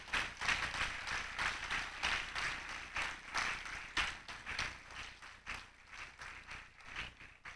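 Church congregation applauding during a sermon, a steady wash of many hands clapping at moderate distance, continuous for several seconds with no speech over it.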